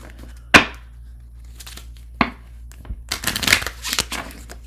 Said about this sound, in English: Shuffle, shuffle, shuffle, shuffle, shuffle, shuffle.